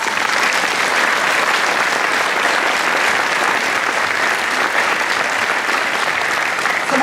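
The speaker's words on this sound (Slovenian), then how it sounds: "A si zaslužiš en aplavz?" An audience at a concert in Koprivnica applauds, giving a dense and steady wash of clapping that holds evenly from start to finish without any talking.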